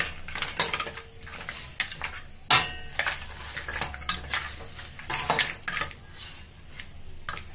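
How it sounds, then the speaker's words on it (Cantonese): A spatula scrapes and knocks against a wok, lifting stuck egg and scallion, with a rapid series of sharp metallic clatters and scrapes over a faint sizzle. "咁仲有少少黐住鑊嗰啲咧，就撩翻起佢啦"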